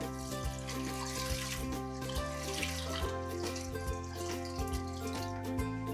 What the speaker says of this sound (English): Add 3 cups of water.